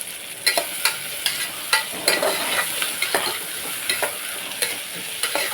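Onions and green chillies frying in oil for a farm chicken curry make a loud, close, continuous sizzle, with frequent sharp spatters and stirring scrapes at an uneven rhythm.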